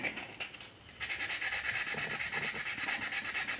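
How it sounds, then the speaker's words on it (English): Hand sanding on a 1/4 scale Spiderman figure gives rapid, rhythmic rasping strokes, close and steady after a brief quieter start, with no talking. "So I prefer hand sanding."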